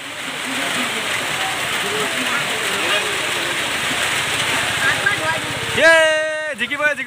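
Rain pours steadily on an outdoor village football match between young and old players, a dense constant hiss with a muffled crowd underneath and a few voices rising near the end.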